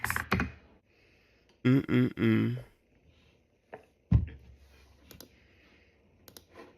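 Clicks from a computer mouse or keyboard while a video plays, a few sharp taps scattered among bursts of a voice from the playing video, mostly faint and close.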